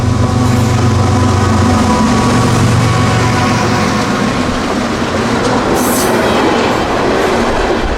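Freight local train 0738 pulls out of Winston Yard, a loud steady rumble of wagons with rhythmic clickety-clack of wheels on rail joints and a brief high squeal near the end.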